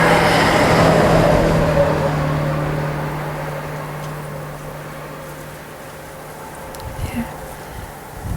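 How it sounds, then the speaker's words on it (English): A steady vehicle hum that slowly fades as a car passes in the distance, leaving quieter background with a few faint sounds near the end, outdoors by a sedge meadow. "But the cars, you can hear them way far away."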